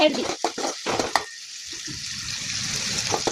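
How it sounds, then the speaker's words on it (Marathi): Chopped onion hits hot oil in a pan and breaks into a steady, close sizzle that carries on alone after a short burst of speech at the start. "तेल गरम झालेले आपण कांदा टाकून घेऊया"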